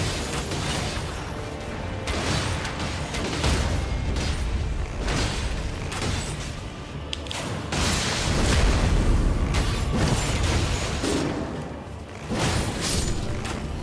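A barrage attack in Sekiro lands as a rapid string of loud, booming impacts with mechanical clanks. The blows come in bursts across the whole stretch, with no voice over them.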